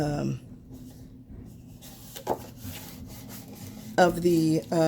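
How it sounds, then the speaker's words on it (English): A paper eyelet piece for a lace tag treat bag is burnished on a table, giving soft dry rubbing and scraping strokes, with a voice talking briefly near the end. "And just go ahead and burnish it on either side."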